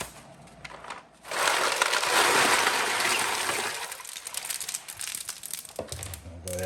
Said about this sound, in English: I'll go ahead and get it all iced up.